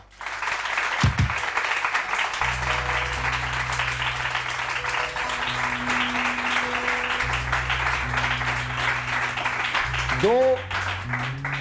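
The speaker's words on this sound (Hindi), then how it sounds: "ऑलराइट जी, तालियां।" Applause from a live show audience, a steady continuous wash that runs the whole stretch, with low sustained tones of background music underneath.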